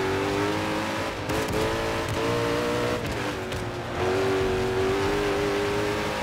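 Koenigsegg Agera 2011 race car engine in a Forza Motorsport race at Circuit de Spa, a loud sustained high-revving drone with pitch shifts as it changes gear, constant and close.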